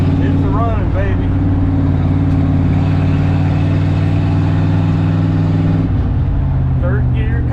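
A 1970 Ford F250 truck engine runs steadily and loudly while driving, a constant close drone that shifts pitch near the end as the gear changes, with a voice briefly heard over it.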